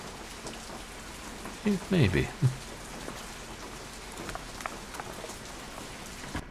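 Steady rain falls in the Nancy Drew: Crystal Skull video game, a constant soft hiss running throughout, with a short burst of louder speech briefly rising over it near the middle.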